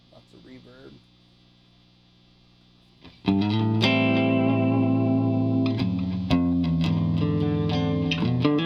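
Mesa/Peavey amp with electric guitar and heavy reverb: a brief quiet hum and a few muted notes, then a loud, washy, chimey chord rings and sustains, followed by further strums blooming into a long reverberant tail.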